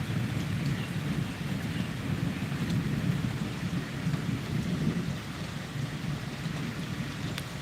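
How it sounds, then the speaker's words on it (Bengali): Rain falls steadily over a deep, rolling rumble of thunder that swells and eases; no one speaks. "চারিদিকে বৃষ্টি পড়ছে"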